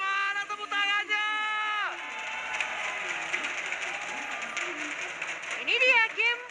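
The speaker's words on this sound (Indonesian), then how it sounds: "MPL Arena, mana tepuk tangannya?" Arena crowd at an MPL esports match between RRQ and Bigetron Alpha cheering and clapping in a steady roar, with a commentator's voice and game sound effects rising over it.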